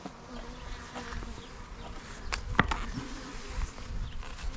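Honey bees buzz around a hive during its first inspection, seven days after a package of bees was installed, making a steady, soft, diffuse hum with occasional nearby clicks and knocks of handling.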